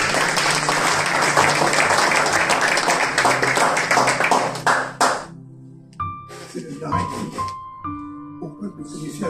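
Church congregation at a New Year sermon claps together in a dense, loud burst for several seconds that then stops abruptly, followed by sparse taps and ringing tonal sounds.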